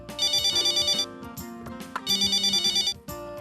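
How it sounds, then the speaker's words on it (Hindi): A telephone rings in a Hindi sitcom household with rapid electronic trilling bursts, two long rings with a short gap between them, loud and close. "फोन उठाइए।"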